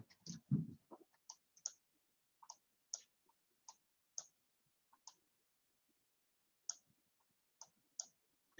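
A computer mouse clicks sharply and sparsely, single and double clicks at irregular intervals in a quiet room, close and crisp, with no talking.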